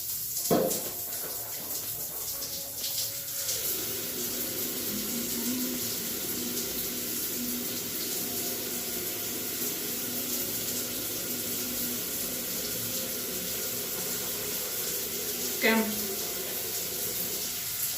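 Bathroom tap running steadily in a beach lodge hotel room in Swakopmund, Namibia, a continuous splashing flow into the sink with a couple of clunks, and a voice briefly speaking over it.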